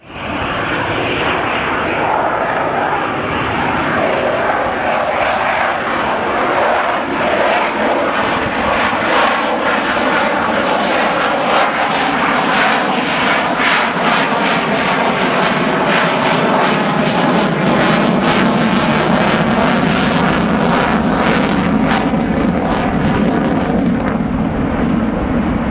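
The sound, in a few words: aircraft performing aerobatics at an airshow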